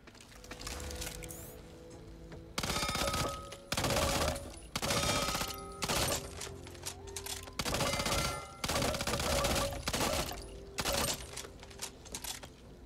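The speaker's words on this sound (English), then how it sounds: "This is the Uzi, which a lot of you guys will recognize from Left 4 Dead." An Uzi submachine gun in the video game Back 4 Blood fires in repeated bursts of rapid automatic shots, each burst a second or so long, separated by short pauses, loud and close with no voices.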